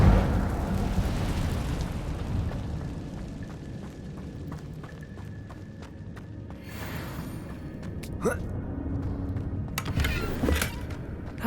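Fire spells cast in Hogwarts Legacy, with whooshing fiery bursts and crackling over a rumbling game backdrop, a few sharper flares near the end, with a voice calling out the spell.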